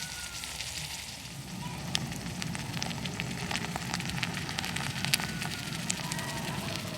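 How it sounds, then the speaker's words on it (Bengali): Garlic and salt sizzling steadily in heating mustard oil, a continuous close crackle and hiss with small pops throughout and no talk. "যত ফুটে ফুটে এই তেলটার মধ্যে রসুনের রসটা বেরোবে"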